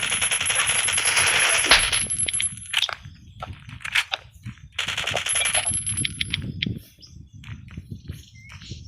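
Rapid bursts of AK rifle fire in the survival game Last Day Rules Survival, two loud dense volleys of about three seconds each, with scattered chirping game effects and quieter shots between them.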